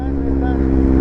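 A modified motorcycle built from two bikes joined together idles with a loud, steady low engine drone, close by.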